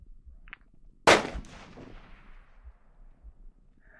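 A single loud rifle shot from an Aero Precision Solus in 6.5 Creedmoor, fired outdoors with a very hot barrel. The sharp crack is followed by a long rolling echo that fades over about two seconds.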